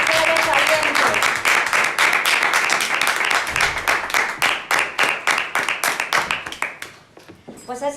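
An audience claps and applauds at a feminist public event in Coslada, a dense steady applause that thins out into scattered individual claps toward the end.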